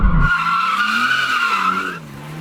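Car tires squeal steadily as the car slides sideways through a drift, a loud, close, sustained screech over engine roar that eases off near the end.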